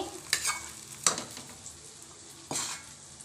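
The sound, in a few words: pouring tempering into rice and mixing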